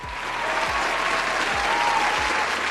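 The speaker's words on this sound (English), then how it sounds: "Actually, give him a round of applause." An audience bursts into loud, sustained applause that holds steady from start to finish, dense and close, with low thumps occasionally punctuating it.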